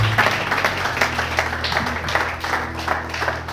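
Church congregation applauding and acclaiming the Lord during a worship service, a steady wash of hand clapping with crowd noise over a low organ or keyboard drone, continuous and moderately loud throughout.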